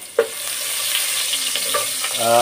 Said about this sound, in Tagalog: ngayon maggisa na tayo ng luya